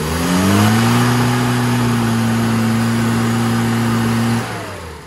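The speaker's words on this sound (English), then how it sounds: "So I pulled the throttle open, it won't even rev up." A flat, misfiring car engine with the throttle pulled open fails to rev, holding a loud, close, strained steady drone that rises slightly then stays level before dropping away near the end.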